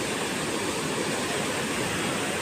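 Floodwater from the Kinnerasani project rushing after heavy night rain, a constant broadband roar at even loudness with no breaks.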